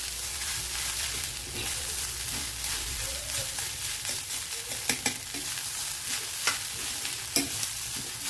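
Coconut rice being stirred in a hot pan, with a steady close sizzle and scattered scrapes and taps of a spoon against the pan, no talk.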